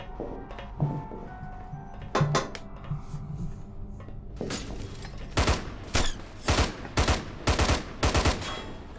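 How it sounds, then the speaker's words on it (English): Gunfire from a weapon in the video game Hunt Down the Freeman, a string of sharp loud shots, sparse at first and then a rapid run of close bursts in quick succession. "Nope, it's just me shooting the gun"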